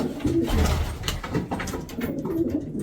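Colourful pigeons coo in low, throaty rolls close by, several birds overlapping in a steady murmur.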